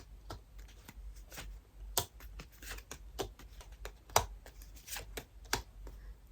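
A deck of fortune-telling advice cards being shuffled by hand, producing rapid, irregular flicks and riffling snaps close to the microphone, with no talking.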